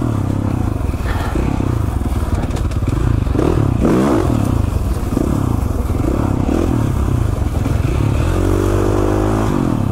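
A 450 four-stroke dirt bike runs loud and close along narrow single-track trail. The engine drones continuously, with brief revs and rises in pitch, and chassis clatter and knocks come through alongside it.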